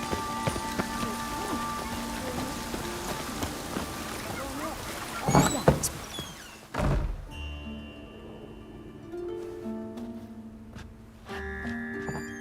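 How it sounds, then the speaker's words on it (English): Rain falling in The Witcher 3: Wild Hunt, a steady patter of drops on surfaces under game character dialogue, with a few heavy thunks and thuds midway before the rain thins out. "Rain again."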